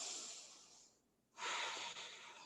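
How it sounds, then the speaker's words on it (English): Slow, deep breaths held during a power yoga pose: a soft airy exhale, a brief quiet pause, then a stronger close inhale, with no talking. "Breathe here."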